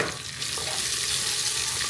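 Ginger garlic paste with cloves, cardamom, cinnamon and bay leaves frying in a pan for a chicken curry, a steady close sizzle with faint stirring and no voices throughout.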